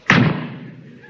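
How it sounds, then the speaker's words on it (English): A bathroom door is pushed shut with a single close, solid thud followed by a short room echo that fades away. "Close the door."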